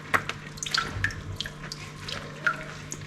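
Water drips and trickles in small irregular splashes as it drains from homemade margarine for uni puff pastry, with close faint drops over a low steady hum.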